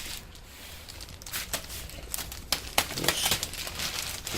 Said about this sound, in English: You want to make sure you use scissors if possible instead of a blade so you don't damage the fabric.